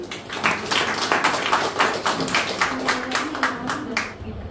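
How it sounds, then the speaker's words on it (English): A school audience at a Teachers Day event claps steadily for a student, a moderate run of rhythmic hand claps carrying on for several seconds with faint voices underneath. "claps to Anusha"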